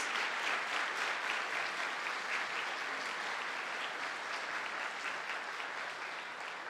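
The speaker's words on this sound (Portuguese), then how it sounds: "Você pode aplaudir por isso?" A church congregation applauds during a sermon, producing a steady wash of many hands clapping at a moderate, fairly distant level, continuous for several seconds with no talk over it.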